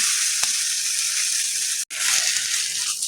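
A wheat flour dosa sizzles in a little oil on a pan, giving a loud, constant, close hiss with one brief dropout partway through.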